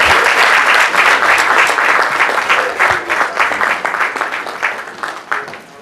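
Audience applause at a quality assurance summit, steady and fairly loud for several seconds, thinning out toward the end as the clapping fades.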